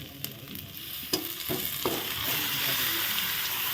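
Chicken meat hits a hot pan and sizzles loudly, with a few sharp clatters and scrapes at the start before the frying settles into a steady, dense hiss.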